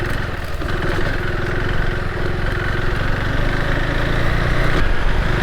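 A KTM 390 Adventure R single-cylinder adventure motorcycle runs on an offroad track, its engine a close, steady, buzzing drone with little change in pitch, heard alone without talk.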